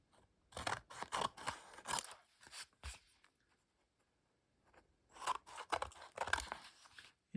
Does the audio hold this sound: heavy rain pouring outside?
no